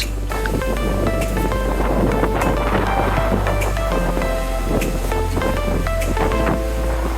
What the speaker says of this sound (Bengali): সমুদ্রের ঢেউয়ের সেই গর্জন আর প্রচুর বাতাস